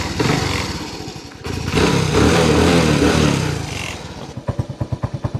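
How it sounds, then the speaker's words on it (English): A Honda C90 Cub motorbike cranks, catches and then runs at a loud, steady idle close by. It settles into a rapid, even putter toward the end, with a faint rattle and no talk. "Alright, let's fire her up."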